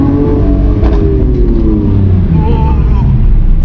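A Lamborghini Aventador SVJ engine drones and revs loudly from inside the cabin, a dense, continuous low roar with a brief rise in pitch partway through.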